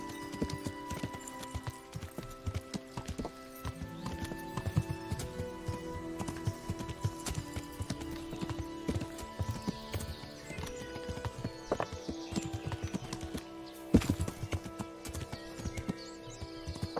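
Horse hooves clip-clopping in the video game Kingdom Come: Deliverance, a steady rhythmic patter of hoof strikes under a background music bed, with an occasional snort or neigh.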